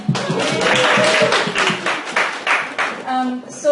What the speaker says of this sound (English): Okay, round of applause for admin.